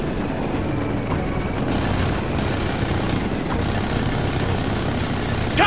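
Hostile chopper in the Ghost Recon Future Soldier video game, a loud, continuous rotor roar mixed with engine rumble and battle noise, dense and unbroken throughout.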